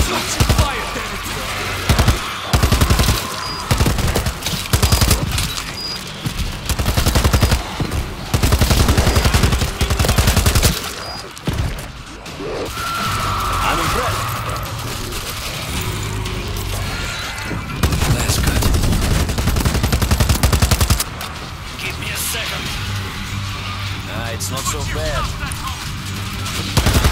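Heavy bursts of rapid gunfire and machine-gun fusillades crackle through a World War Z battle scene, with shouting voices mixed in among the shots.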